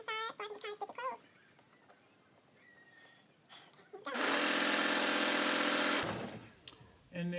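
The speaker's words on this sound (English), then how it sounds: "I just kind of flip it on the inside so I can just kind of stitch it closed" A sewing machine stitches a fabric infinity scarf closed, running in a loud, fast, steady burst for about two seconds after a person talks briefly and near a quiet lull.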